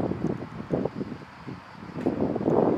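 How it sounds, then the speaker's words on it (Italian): Wind gusts buffet a microphone outdoors, producing a low, uneven rumble that swells and fades over a few seconds with no voices. "adesso c'è del vento e non ci sta."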